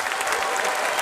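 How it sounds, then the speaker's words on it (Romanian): Audience applause at a Romanian stand-up comedy show, a brief, dense burst of clapping that stays steady throughout the second. "E foarte bine că ați aplaudat"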